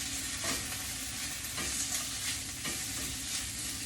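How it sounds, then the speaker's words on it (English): Kale and sliced fennel sauté in a skillet with a steady, close hiss, broken by a stirring scrape roughly every second. "My kale is sauteing."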